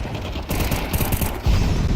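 Rapid gunfire in the video game Counter-Strike 2 on the Mirage map, dense bursts of automatic shots crackling continuously, loud and close, with a heavier blast near the end.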